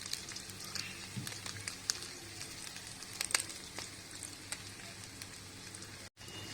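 Beef pieces fry in about five tablespoons of hot cooking oil in a kadai for Kerala beef pickle, a steady close crackling sizzle with scattered pops throughout and a brief drop out near the end.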